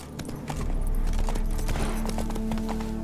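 Roach, a horse in The Witcher 3: Wild Hunt, gallops steadily with a fast, even clip-clop of hooves, close and loud for the whole stretch, with no talk over it.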